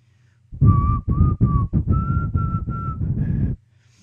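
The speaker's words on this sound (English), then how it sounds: "No more whistling." A person whistles a short tune alone: a few quick clipped notes, then longer held tones, clear and close over a quiet background.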